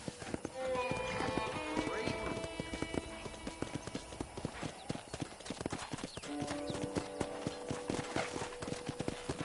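Horses trot in the video game Red Dead Redemption, their hooves beating a steady, close clip-clop with an occasional whinny, over sustained background music.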